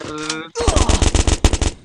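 A rapid burst of automatic gunfire rattles in quick succession after a brief voice, loud and close, like shooting in a video game.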